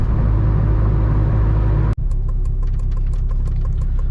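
A turbocharged K24-swapped Honda Civic Si with a short six-speed gearbox pulls hard in a gear, engine droning loud and steady, then a sharp shift break drops into a lower, pulsing rumble as it keeps accelerating.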